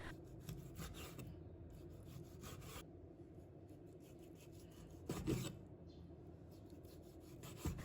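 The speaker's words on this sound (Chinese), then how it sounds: "在切之前一定要先看一下纹路，把它切成厚厚的薄片。" A knife slices lean pork into thick pieces on a cutting board, making repeated soft rasping strokes in short rhythmic bursts with brief pauses, close and fairly quiet, with one louder stroke near the middle.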